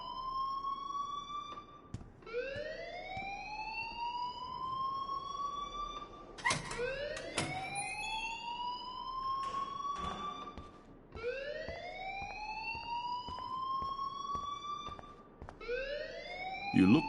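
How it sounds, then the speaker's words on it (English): Alarm in the video game Life is Strange wails in a repeated rising siren sweep, about every two to three seconds, steady and fairly close with occasional clicks over it. "please turn off that alarm since that's your job"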